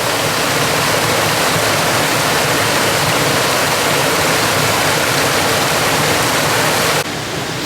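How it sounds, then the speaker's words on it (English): A small waterfall on a rocky hiking trail pours steadily, a loud, dense, continuous rush of water close by with no talking, holding constant for about seven seconds before easing slightly. "Some of the neatest waterfalls are the little ones."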